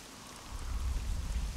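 Steady rain in the video game Devil May Cry 3 Special Edition, a continuous hiss of falling water with a low rumble building beneath it, moderately loud and alone.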